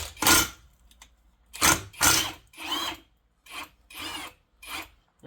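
An impact wrench works a strut spring nut on a Subaru WRX, a series of short rasping whirring bursts, near and fairly quiet, separated by brief gaps.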